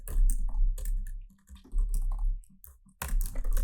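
Fingers type code on a computer keyboard while building a React and Node app, with quick, uneven bursts of close key clicks broken by short pauses and a dense flurry of keystrokes at the end.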